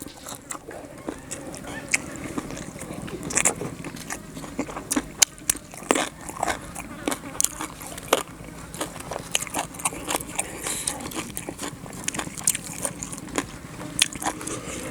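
Close, wet chewing of a spicy salad of red ant eggs with krathon leaves, the eggs popping in the mouth: irregular soft crunches and clicks throughout, with quiet voice sounds in places.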